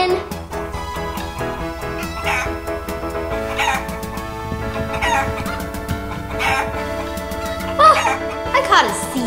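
A chicken clucks and crows in short bursts at a pretend-play fishing scene with toy trucks, while children's voices and background music run underneath throughout.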